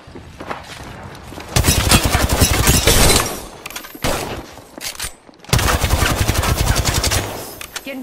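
Rapid bursts of automatic gunfire crack out in dense, sustained volleys, loud and close, broken by a brief lull near the middle before another long barrage.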